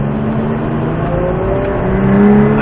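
A car engine pulls on light throttle in second gear during on-track driving, a steady rising drone with climbing harmonics that grows slightly louder toward the end, with no talk over it.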